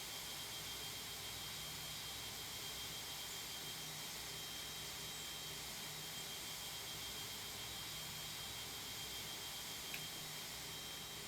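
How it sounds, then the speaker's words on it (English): Jet airliner engines, a KLM plane, revving while holding on the ground in an airport tower simulator game at Sint Maarten, a steady broadband roar that continues without a break, with a faint tonal whine on top. "KLM's just going to have to sit there revving its engines"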